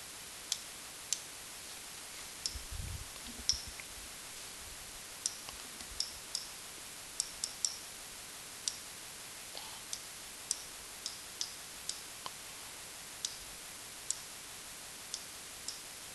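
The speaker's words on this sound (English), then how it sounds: "And then we just go put that in our calculator and see what the answer is." Calculator keys are pressed one at a time in an uneven run of sharp, quiet clicks spread across the clip, close to the microphone, with a brief low thump early on and no speech.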